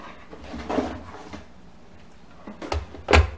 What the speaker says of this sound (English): I'm gonna grab the mandolin out of the drawer.